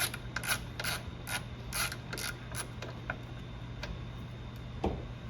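A ratchet loosens the horn mounting bolt on a 2010-2014 Ford F-150 Raptor, with bursts of quick clicking at close range, then a few isolated clicks and pauses.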